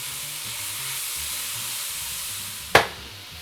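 Onions fry in a pan with a steady hissing sizzle, close and even throughout, then a single sharp clack of a utensil against the pan near the end.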